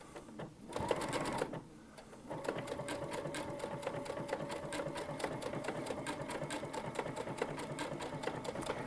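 A Baby Lock Altair sewing machine stitches at about half speed with a bridging plate fitted, giving a steady, even run of needle clicks after a brief start and pause, close and fairly quiet.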